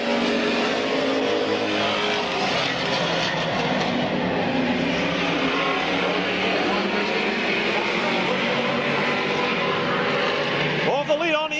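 Race cars circle Midvale Speedway in a continuous loud engine roar under a public-address announcer calling the race.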